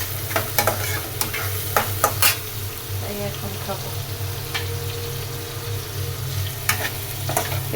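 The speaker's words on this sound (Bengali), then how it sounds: "পেঁয়াজ আর চিংড়ি মাছটা মোটামুটি ভাজা হয়ে গেছে" Onion and prawns fry in a pan with a steady sizzle, punctuated by scraping stirs and a few clinks, while a voice speaks briefly.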